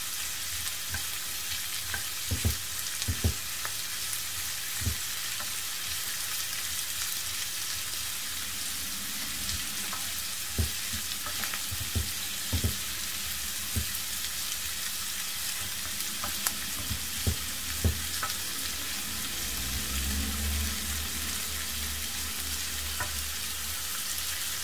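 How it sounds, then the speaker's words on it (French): Sliced bell pepper strips frying in a pan for Tunisian ojja, a continuous sizzle broken by intermittent scraping and knocking as a utensil stirs them, close and moderately loud throughout. "je verse mes poivrons découpés en lamelles. Je remue."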